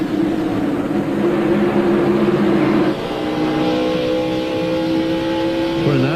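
NASCAR stock cars race at the 1998 Las Vegas 400, a sustained loud engine roar with pitch shifting as the cars pass, ending in a brief high whine.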